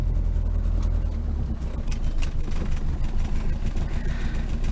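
A Rover P6 engine idles with the choke pulled out, running lumpy and uneven, a steady low rumble with irregular beats, heard close with some faint background noise.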